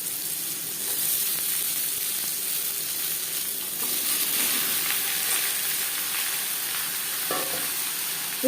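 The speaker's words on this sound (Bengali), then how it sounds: "ফোড়নের সাথে বেশ ভালো করে মিক্স করে দেব।" Ash gourd being stirred into a mustard-seed and bay-leaf tempering in hot oil, giving a steady soft sizzle and frying hiss with faint scraping of the spoon throughout, no talking.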